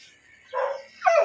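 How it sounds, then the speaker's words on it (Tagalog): A pet dog gives two short barks near an outdoor wood-fired cooking stove, each yap brief and fairly clear against a quiet background, with no talking. "Ingay ng aso ko."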